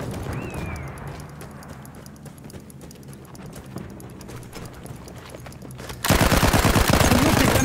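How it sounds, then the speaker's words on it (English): Rapid automatic gunfire from a machine gun in the Battlefield 1 shooter game, a dense rattling burst that grows suddenly much louder near the end over constant battlefield noise. "Machine gun!"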